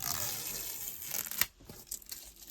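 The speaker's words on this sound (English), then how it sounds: "I'm going to have to take all this tape off." Tape peels away from a finished diamond painting in a quick ripping tear, close and crisp, followed by a few softer crinkles and rustles.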